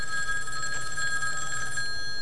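A telephone rings at a booth in the horror game Huntsman: The Orphanage, a steady electronic bell tone held for about two seconds, moderately loud, with nobody talking.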